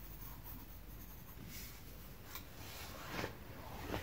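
Pencil sketching a figure on paper, close and soft, with continuous scratchy strokes and a few firmer sweeps toward the end, heard alone without talk.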